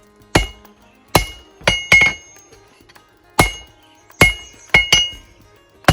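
Heavy hammer blows ring out on a Viking axe edge being tapered at the forge, eight sharp metallic strikes in uneven groups, loud and close with ringing clinks after each hit.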